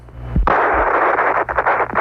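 Apollo 13 oxygen tank explosion as a documentary sound effect: a sharp low thump, then a loud, sustained roaring rush of broadband noise that wavers and pulses over about two seconds.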